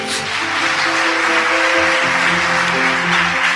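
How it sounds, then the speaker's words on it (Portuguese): A church congregation at a revival service claps together, a dense steady wash of applause mixed with sustained organ or keyboard tones, loud and close throughout. "Quem entendeu, aplauda Jesus."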